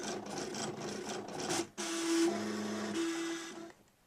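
A Cricut Imagine cutting machine working on paper, its close carriage motor whirring and buzzing in bursts, with sustained tonal hums as the head moves before it winds down.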